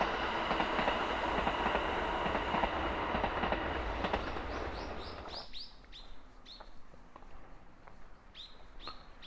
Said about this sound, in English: But hey, another train.